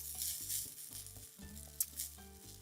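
Fried rice with vegetables and shrimp sizzling in a hot pan while it is tossed and stirred, giving a soft crackling hiss with light scraping and clinks over a low steady hum, close by and without talk.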